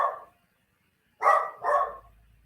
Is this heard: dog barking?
yes